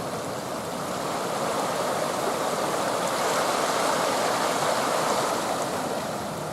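A waterfall pours into Lake Superior, a steady, full rushing roar of water heard up close, continuous and unbroken with no voices.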